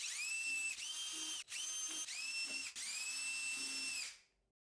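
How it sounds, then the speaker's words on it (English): A small high-pitched drill with a 1/16 inch bit whines in several short bursts, drilling holes in a bubble wall's bottom plate, briefly dipping between runs, then spins down and stops. "I moved on to finishing drilling the holes in the bottom plate."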